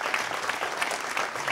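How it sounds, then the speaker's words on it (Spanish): Dense, steady applause from a studio audience on a Canarian TV variety show, a continuous wash of many hands clapping at close range with no talk over it. "Venga, un aplauso."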